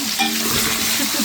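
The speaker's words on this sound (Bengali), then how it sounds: "এই যে টমেটো আর পেঁয়াজ একসাথে দিয়ে দিলাম" Tomato and onion fry together in a pan, giving a loud, close sizzle with busy stirring and scraping throughout.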